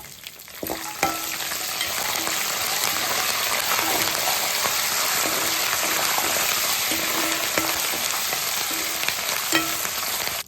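Ginger, green chillies, dried chillies and curry leaves sizzle in hot oil for mango pulihora, a loud steady crackling fry with occasional stirring clinks, and no voices.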